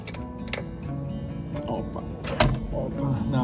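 An Adams Rite 8800 exit device on a commercial glass storefront door releases with a few metallic clicks and a sharp latch clack, close up, followed by a faint rattle of the door hardware.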